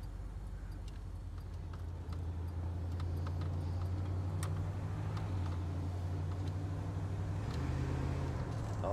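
A 1968 Buick Skylark convertible's engine hums quietly from inside the car, a low steady drone that rises slightly in steps as it gathers speed, faint and smooth with light ticking.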